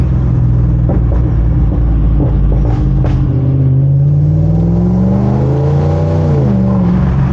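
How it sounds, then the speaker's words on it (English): A Volvo S80 V8 car engine rumbles loudly at idle, then revs up and down in rising and falling sweeps, with a few sharp crackles and pops from the exhaust. "let's get some pops and bangs on the S80 V8."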